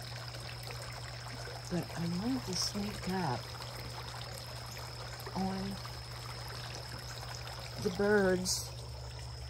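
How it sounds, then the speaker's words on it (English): A garden water fountain trickles and splashes softly and continuously in the background of a sunny morning garden, heard faintly beneath a person speaking. "And there's our water fountain."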